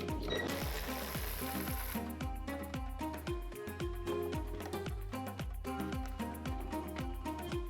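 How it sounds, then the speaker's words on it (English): A ratchet removing the last 13mm nut from a Mini Cooper R56 front suspension strut gives a steady, regular run of clicks that continues throughout, at moderate level under a constant background. "you hold the suspension strut while you take off this last nut so it doesn't drop and get damaged"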